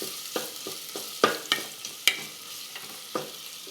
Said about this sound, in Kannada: ಈರುಳ್ಳಿ ಸ್ವಲ್ಪ ಕೆಂಪಾಗೋ ತನಕ ಬೇಯಿಸ್ಕೊಂಡು,